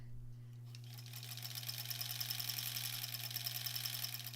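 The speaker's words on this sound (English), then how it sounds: "I'm gonna sew a 1/4 inch from the line on this side." A sewing machine stitches a quarter inch from the marked line on a quilt block, a steady close mechanical whir with a fast needle rhythm that starts after a brief quiet moment and runs on to the end.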